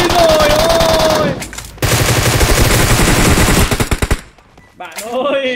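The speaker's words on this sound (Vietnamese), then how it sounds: "Bắn trả kìa." Bursts of automatic gunfire in the mobile battle royale game PUBG Mobile, loud rapid rattling volleys with brief gaps, followed by a short voice near the end.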